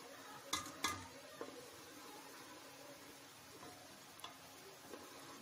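Chopped onions fry in oil in a pan with a soft, steady sizzle, joined by a few light clinks of a utensil near the start and later.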